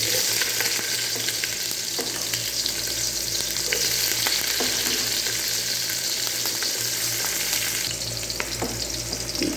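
Onions sautéing in a pan for Filipino ginisang gulay, a steady loud sizzle with occasional stirring scrapes and light clinks, continuous throughout without talk.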